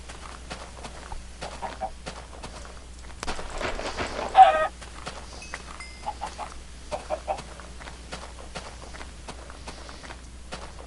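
Chickens in the video game Minecraft, soft clucks and short squawks scattered over about ten seconds among light footstep taps, with one brief louder burst near the middle.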